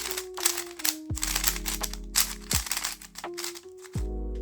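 A Meilong 3x3 V2M speed cube, new and still a bit scratchy, is turned quickly by hand, giving dense bursts of clacky, low-pitched plastic clicks close to the mic, with steady tones in the background.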